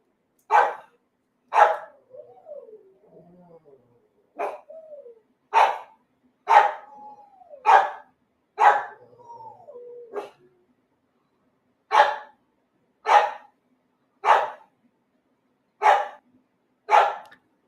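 Dogs at home bark repeatedly in a loud, close, steady series of sharp single barks, with short gaps where softer whines and whimpers rise in between.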